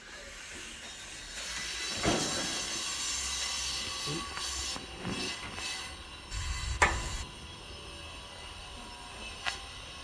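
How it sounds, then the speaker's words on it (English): Building work at a neighbouring property comes through as a steady hiss with a few sharp knocks and bangs in the middle distance, continuing without any speech. "some of our neighbours are having some building work done"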